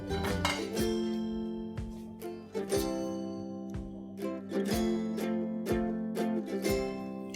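Plates and dishes clinking in a kitchen, a series of light ceramic knocks and ringing clinks at irregular intervals, close and moderately quiet with no voices.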